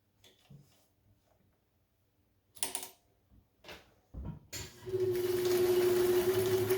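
A vintage Kenmore 540 sewing machine does free motion sewing, starting with a few soft clicks and handling knocks and then settling into a steady, close mechanical whirring hum.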